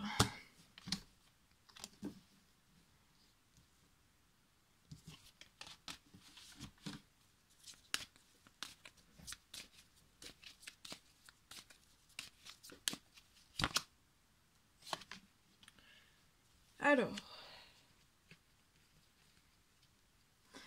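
Large tarot cards are shuffled in quiet, intermittent bursts of crisp riffling and papery slaps, separated by near silence, with one louder flurry toward the end.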